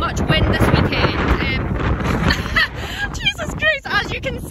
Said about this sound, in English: There's a bit of a breeze, unfortunately, because of a hurricane in Florida, I think. There is so, so much wind this weekend.